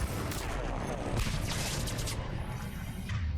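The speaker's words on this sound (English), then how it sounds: "We'll do another grenade on you." A grenade goes off in Mass Effect amid ongoing combat noise, a muffled boom with rumbling debris over a steady wash of battlefield sound, moderately loud throughout.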